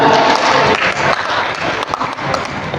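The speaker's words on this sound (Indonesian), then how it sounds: "Tepuk tangan untuk KPK." An audience at an Indonesian regional coordination meeting claps for the anti-corruption commission KPK. The applause is dense and loud, sustained for about three seconds before easing slightly.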